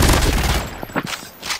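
Gunfire in the mobile game Call of Duty Mobile: a loud burst of rapid shots at the start that tails off into a few scattered fainter cracks.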